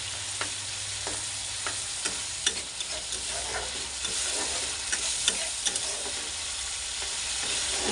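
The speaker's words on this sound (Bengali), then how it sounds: "এবার মশলাটাকে ভালো করে কষিয়ে নেব কিছুক্ষণের জন্য।" A spice paste of ground cumin, turmeric and salt frying in oil for a hilsa fish curry, soft constant sizzling broken by regular scraping strokes of a spatula stirring the pan, fairly quiet, with no speech.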